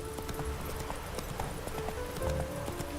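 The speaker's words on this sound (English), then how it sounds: "Horse doesn't want to sprint for some reason." A horse's hooves clip-clop in a steady running rhythm in The Witcher 3, close and clear, with a brief whinny and some faint game ambience underneath.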